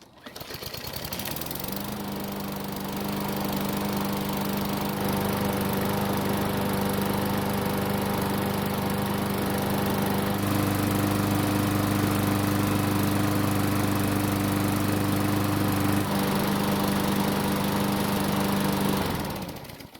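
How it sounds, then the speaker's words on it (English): A Murray lawn mower's small engine starts after repair work and runs steadily close by, a loud, continuous droning hum with a brief shift in pitch midway, then cuts off at the end. "we'll prime the engine and make sure that it still starts and runs after all that work we did to it"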